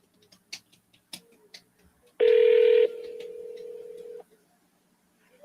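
An outgoing telephone call to a seller plays through a phone line: a loud steady electronic tone, then a softer sustained tone, set between faint clicks and taps.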